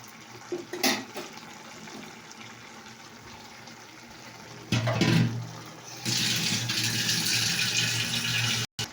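Water is poured into a pan of cooking masala, making a loud, steady gushing splash for about three seconds that stops abruptly. Earlier there are quieter kitchen clatters and a brief clunk.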